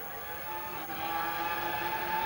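Formula 1 cars race around the track at the 2002 Australian Grand Prix, a sustained high engine whine rising in intensity, heard at a distance as a steady broadcast drone.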